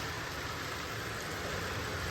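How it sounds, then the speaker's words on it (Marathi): Steady, dense hiss of heavy rain pouring down on a house with metal roof sheets, continuous and even throughout with no voices. "काय करणार या पावसाला तरी"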